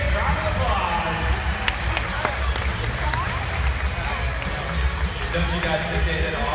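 Audience applause and crowd noise at a Shamu killer whale show, a steady dense wash of clapping and cheering that runs through the whole stretch at fairly loud level.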